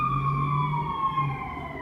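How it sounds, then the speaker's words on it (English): A siren wails steadily with a slowly falling pitch, loud and fairly close, over a low engine rumble. "Hear that siren?"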